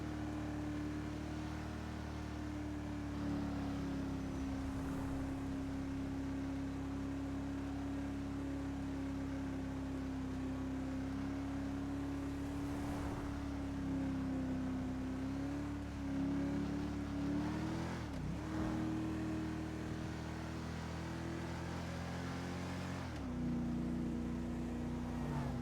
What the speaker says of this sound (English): That V8 sounds amazing.